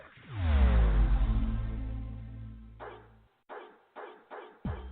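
A dog barks a handful of times in a radio advert for a grooming salon for dogs and cats, short sharp barks following a long fading tone, close and fairly loud with no talk.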